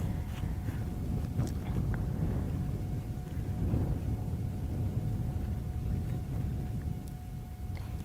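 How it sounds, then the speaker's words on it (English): Wind gusts across open African plains at sunset, a steady loud rumbling buffet over the microphone that lasts throughout with no voices. "this wind has suddenly come billowing out of nowhere. So that's what you're hearing, gusting over the plains."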